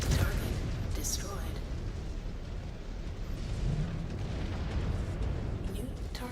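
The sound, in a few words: explosion of destroyed target in Mechwarrior 5: Clans video game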